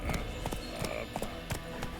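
Horse hooves pound along in The Witcher 3, a quick series of clip-clop beats at an uneven galloping rhythm, fairly faint and close, with soft background game ambience.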